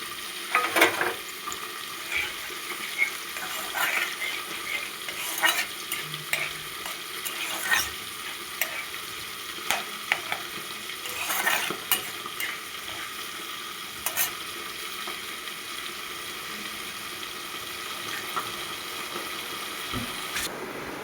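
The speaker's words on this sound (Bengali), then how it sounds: "এবার আমি গোটা গরম মশলা, লঙ্কা, জিরা, গোটা গরম মশলা, তেজপাতা ফোড়নে দিলাম।" Whole garam masala, dried chili, cumin and bay leaf tempering in hot oil for a fish kalia, giving a steady crackling sizzle with intermittent sharp pops and stirring clinks, close and moderately loud, no voices.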